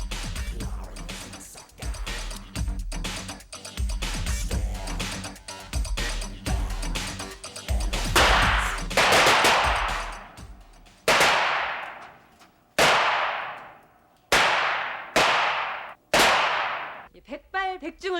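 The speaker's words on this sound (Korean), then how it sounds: "실전과 똑같이 연습을 하는 사격장에 제가 한번 나와봤는데요" Gunfire on a police academy shooting range in 1997: after a stretch of dense mixed noise, a series of loud, sharp individual shots rings out at irregular intervals, each followed by a short ringing decay, ending in a quick rattling burst.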